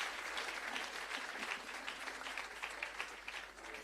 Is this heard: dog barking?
no